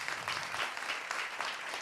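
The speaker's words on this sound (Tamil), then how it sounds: "அதியனுக்கு முதல்ல ஒரு கைத்தட்டு கொடுக்கணும்" Audience applause for Athiyan, a short, even patter of many hands clapping together, moderately loud and unbroken with no voices on top.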